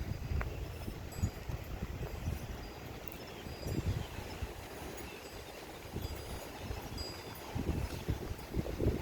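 Gusty wind buffeting the microphone on a windy morning walk outdoors, a steady low roar with repeated thumping gusts throughout, loud and close, with no talking.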